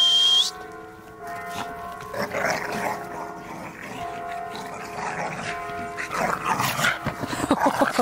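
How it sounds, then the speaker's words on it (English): Staffordshire Bull Terriers chew a snack after a forest walk, with close wet gnawing and smacking mixed with low growly dog noises, carrying on steadily and getting louder toward the end. "the dogs are now chewing a snack"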